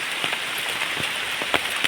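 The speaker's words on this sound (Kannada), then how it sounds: "ಮಳೆ ಈಗ ಬರಲಿಕ್ಕೆ ಸ್ಟಾರ್ಟ್ ಆದ್ದು ಈಗ ಒಂದು ಟೆನ್ ಮಿನಿಟ್ಸ್ ಆಯಿತು" Steady rain falls and patters on a surface, with scattered distinct drops striking close by over a constant hiss, no voices.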